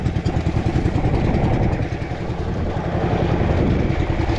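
A small boat engine, running poorly, chugs and idles steadily, close and loud, with a rough, rhythmic putter throughout and no voices.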